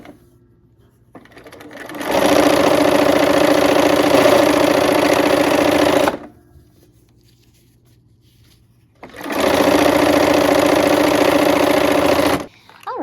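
A sewing machine stitches quilt pieces together in assembly-line fashion, running in two steady, loud bursts of about four seconds each, separated by a quiet pause; no talk.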